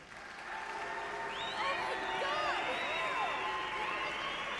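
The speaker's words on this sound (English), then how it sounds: "Everyone's booing her." An awards crowd in the Life Is Strange game reacts to Victoria Chase winning, producing a swelling murmur of noise with overlapping voices that holds at moderate volume and sounds a little distant.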